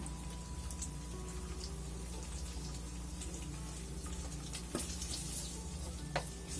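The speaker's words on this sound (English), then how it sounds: "That's kind of the sound that meat makes, or things like that." Steady soft sizzling and crackling of pork frying in a pan, with occasional sharper pops over a constant low hum.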